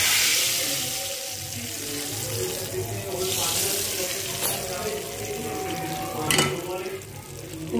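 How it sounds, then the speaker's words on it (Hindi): Hot tempering of cumin and green chilies is poured over masoor lentil dal, giving a loud hissing sizzle that splashes and bubbles continuously, with a few sharper spits along the way. "तड़का हमारा तैयार हो गया, अब इसके ऊपर हम बघार लगाएंगे"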